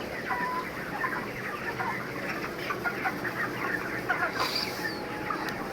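Healthy chickens cluck steadily in a poultry shed on the ground floor beneath a two-storey building on a hot day, with overlapping near and far calls filling the space and no talk.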